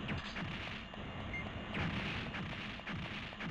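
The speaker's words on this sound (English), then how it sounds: "two bombs stacked do more damage than two individual bombs" Bomb blasts in the video game Silent Bomber, a dense run of heavy booming explosions that keeps rolling without pause, loud and close, with no talking.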